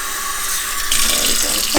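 Tap water runs steadily into a pasta pot being filled for venison spaghetti, a continuous broadband gush that grows louder and brighter partway through as the level rises, with no talking.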